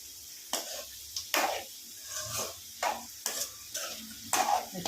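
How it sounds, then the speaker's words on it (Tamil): Chicken for a semi-gravy sautés slowly over a low simmer in a pan, a soft sizzle broken by repeated stirring scrapes and clinks of a spoon at a steady, unhurried rhythm. "சிக்கன் இப்படியே வதங்கட்டும்,"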